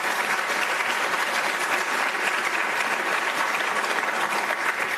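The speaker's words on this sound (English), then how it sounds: "So let's start, first of all, by giving our candidates a round of applause." An audience at a general election debate gives the candidates a dense, steady round of applause that stays loud and even for the whole five seconds.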